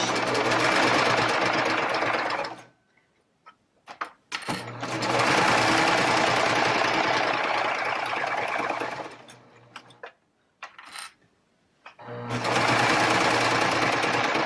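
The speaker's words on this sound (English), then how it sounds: "I've got my serger threaded for the 3/4 thread overlock, and I'm just going to put my fabric under the needle and then stitch" A serger running a 3/4 thread overlock stitch through layers of placemat fabric, loud steady mechanical whirring in three long close bursts separated by pauses with small handling noises.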